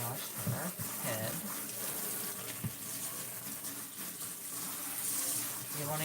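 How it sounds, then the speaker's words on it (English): Steady running tap water gushes into a sink while a used American Girl doll's wig is washed. The flow is constant and moderately loud, with faint splashing throughout. "Now I'm going to wash her head."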